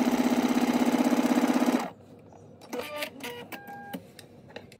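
A sewing machine runs steadily while stay stitching a bodice front, a fast even mechanical rattle for a couple of seconds that stops abruptly, followed by faint clicks and handling sounds.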